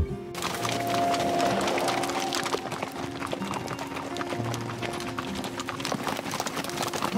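Hooves of an Icelandic horse clip-clopping in a steady rhythm while being ridden, close and fairly loud, with some faint background noise and a low tonal hum running underneath.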